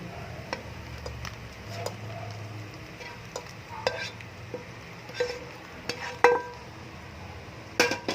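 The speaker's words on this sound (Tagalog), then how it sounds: "saka ko po ihahalo yung mga seafood kanina" Seafood is stirred into fried rice in a hot pan: a low sizzle runs throughout, broken by repeated close scrapes and sharp metallic clinks of the utensil against the pan, growing busier toward the end.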